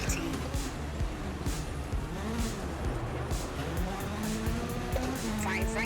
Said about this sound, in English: slam the accelerator down and hear the engine just go berserk